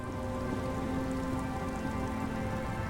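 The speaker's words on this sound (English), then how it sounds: "All around you, rain keeps falling down. On the wooden boards." Steady rain falling on wooden boards in the video game Disco Elysium, a dense, even patter that holds constant throughout, close and fairly loud with no voices over it.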